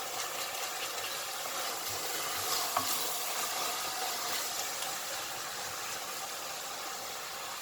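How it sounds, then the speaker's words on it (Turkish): Minced meat sizzling steadily in a pan while a wooden spoon stirs it, giving a constant frying hiss with occasional scraping, close up. "kıymamızı kavurmaya devam ediyoruz. Tahta kaşığımızla da sürekli olarak karıştırıyoruz."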